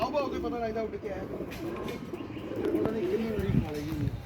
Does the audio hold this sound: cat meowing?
no